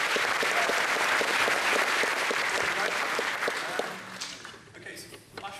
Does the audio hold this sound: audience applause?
yes